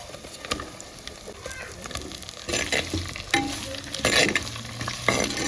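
Sliced onions fry with chilies in a pan, a steady close sizzle broken by scraping, clattering stirs that grow louder and more frequent toward the end.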